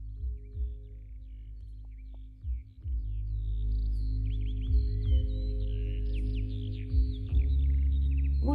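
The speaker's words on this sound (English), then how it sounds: "I want you to listen to these happy, delightful birds." Small birds chirp and trill in short scattered bursts, fairly faint and at a distance, over a steady low background hum with occasional soft bumps.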